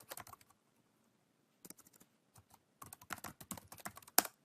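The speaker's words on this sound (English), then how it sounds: "If I could type here." Typing on a computer keyboard while signing in to an account: sparse bursts of quick, close key clicks with pauses between, ending in one sharper keystroke, no voice over it.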